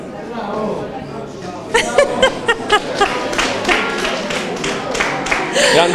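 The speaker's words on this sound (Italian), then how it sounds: "Grande applauso, veramente." Claps from an audience at a neighbourhood association event in Campobasso, starting after a stretch of chatter and laughter and running as a string of distinct, fairly close hand slaps, with talk and murmuring under and around them.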